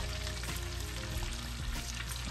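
A beef pot roast browns in a pot on the stovetop, giving a dense, steady sizzle with constant crackling up close, heard alone without pause.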